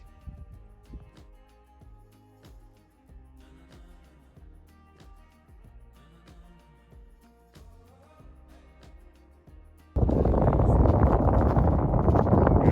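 On a mountain trail on Mt. Blue Sky in the Rocky Mountains, after a quieter stretch of tonal background sound, a sudden loud gust of wind roars across the microphone and keeps buffeting to the end.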